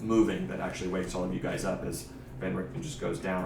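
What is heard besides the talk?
No everyday noises stand out.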